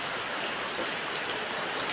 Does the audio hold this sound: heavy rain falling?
yes